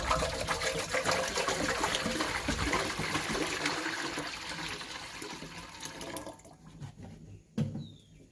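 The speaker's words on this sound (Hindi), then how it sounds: "और अब इसमें डाल देंगे पानी, तकरीबन 3 लीटर पानी है।" Steady pouring of about three litres of water into a cooking pot, a continuous splashing trickle that tapers off near the end, followed by a couple of soft clanks.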